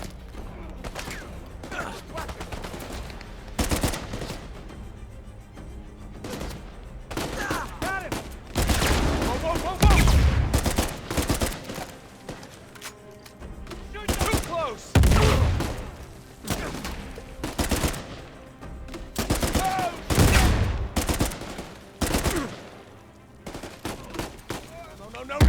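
Repeated bursts of video game gunfire, loud volleys and automatic fire spread through the stretch, with a player talking over it between shots.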